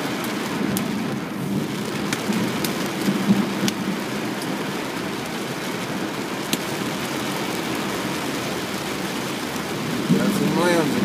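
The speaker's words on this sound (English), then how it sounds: "Oh, I see the hail." Heavy rain and hail pound down in a dense, constant roar during a thunderstorm, with sharp impacts scattered throughout and rumbles beneath, loud and close.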